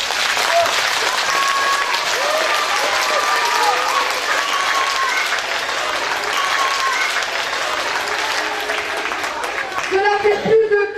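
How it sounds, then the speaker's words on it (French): Audience applause fills a school event hall, sustained and dense, broken by occasional whistles and cheers, with a brief voice near the end. "Je crois qu'on peut encore les applaudir."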